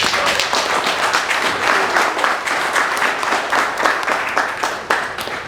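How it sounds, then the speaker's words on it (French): Wedding guests clap for a newly married couple right after the ceremony, a dense, lively round of applause from many hands that holds steady and close for several seconds. "Est-ce qu'on peut les acclamer ici?"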